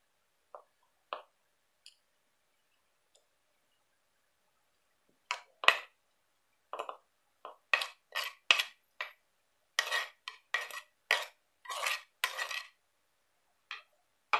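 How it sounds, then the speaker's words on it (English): Bitter eggplant (likok) and fish meat are stirred into a chutney, with a spoon clicking and scraping against a dish: a few sparse taps, then a denser run of quick metallic clatters, close and fairly quiet with no talking. "So now I'll mix this bitter eggplant and the fish meat with the chutney."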